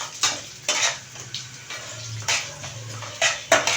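Urad dal frying in cooking oil, likely coconut oil, in a pan: a soft sizzle under repeated spoon clinks and scrapes against the metal, arriving in irregular bursts, close up with no voices.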